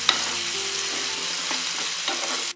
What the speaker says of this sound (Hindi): आइए अब पम्पकिन को हम डाल देते हैं और अभी नमक डाल देंगे और इसे अच्छी तरह से हिला देंगे।